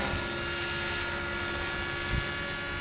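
A radio-controlled Raptor 50 nitro helicopter flies at steady distance, its engine and rotor making a continuous droning whine with a slight swell near the end; no one speaks over it.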